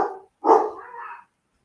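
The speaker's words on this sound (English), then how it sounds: "There's me dog going nuts again." A pet dog indoors barks in two quick bursts, the second a longer, louder bark trailing into a rough growl, fairly close and with no talking.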